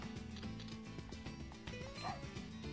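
A dog in the video game The Dog Island gives a few quick, yipping barks and whimpers, quiet and close, in short bursts.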